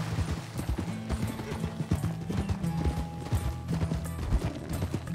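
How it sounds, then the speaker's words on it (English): Rhythmic clip-clop of horse hooves trotting close by in the video game Red Dead Redemption 2, with a low steady rumble underneath and a brief whinny-like tone. "Get that horse in line, Arthur."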